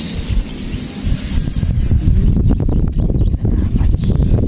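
Gusty wind buffets the microphone outdoors at a fishing spot for snakehead, a steady loud low rumble with rising bursts, some faint clicks and a possible distant bird.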